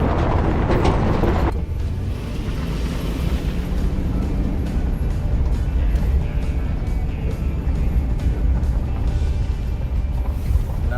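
Car with a Gen 3 HEMI engine driven after a misfire fix, a loud rumbling engine and road noise from inside the cabin, a harsher burst at the start settling into a steady drone.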